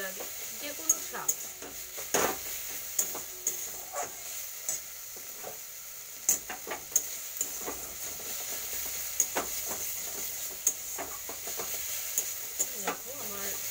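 Red amaranth greens fry in a pan while a metal spatula repeatedly presses and mashes them, sharp scraping knocks recurring every second or so over a steady soft sizzle.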